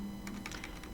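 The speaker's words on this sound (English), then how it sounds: "And what you do is you type in Searchsploit," A command being typed on a computer keyboard, a brief run of a few close, crisp key taps in quick succession.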